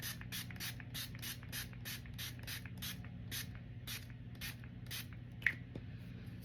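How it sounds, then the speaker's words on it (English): Makeup Revolution Glow Fix setting spray is pumped in a rapid series of about a dozen short, hissing spritzes, close and crisp, followed by a faint click and quiet. "It's just a really nice setting spray."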